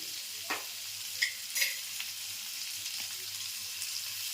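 Potatoes fry in a pan with ground cumin and coriander, a soft steady sizzle broken by a few scraping stirs of a spoon, close and moderately quiet with no talking.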